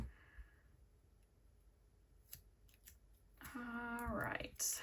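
Scissors trimming a paper checklist make a few quick snips and crisp clicks, close and quiet at first. A louder rustle and a brief vocal sound follow near the end.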